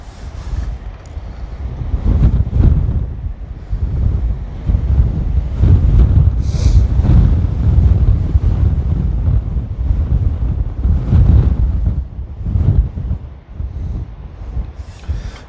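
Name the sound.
strong wind blowing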